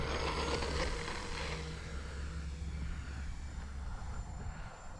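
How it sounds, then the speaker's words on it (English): An E-flite Twin Otter RC model airplane flies overhead, its twin electric motors giving a steady, fairly loud propeller drone that holds for the whole stretch with a slight fade. "We're going to be taking up the E-flite Twin Otter"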